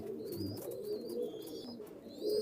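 Imported Omani teddy pigeons coo in low, overlapping rolling calls, fairly close and steady throughout, with a few thin higher chirps drifting in the background.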